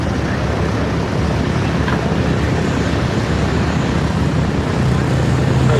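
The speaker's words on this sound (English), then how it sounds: "Got some heavy metal taxiing past you now, the T-28" A T-28 warplane taxis past at an airshow, a steady, loud broadband engine roar with a faint drone that holds evenly and swells slightly toward the end.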